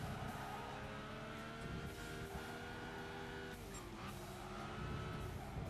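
A race car in Gran Turismo 5 races with worn tyres, its engine whining and shifting pitch while the tyres squeal as it slides through corners, continuous and fairly quiet.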